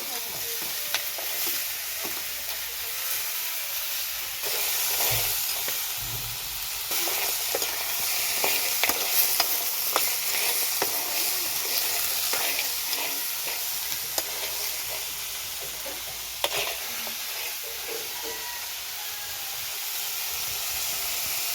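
Crabs cooking in a sizzling pan for a spicy Konkan crab masala curry, a steady loud hiss of frying with scattered pops and occasional stirring scrapes, continuous throughout with no talking.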